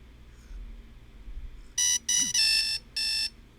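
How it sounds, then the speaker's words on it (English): A video game alarm clock goes off in four loud, piercing electronic beeping bursts after a quiet stretch of low ambient background noise. "Let's go ahead and turn that alarm off."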